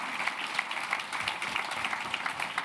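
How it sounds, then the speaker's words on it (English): A conference audience at a European accessibility event applauds the backstage team, a steady, dense wash of clapping from many hands sustained throughout at moderate volume. "I ask you a big applause for the team in the back"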